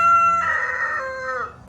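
A single rooster crows once, close and loud, a drawn-out cock-a-doodle-doo that fades out in a vegetable garden.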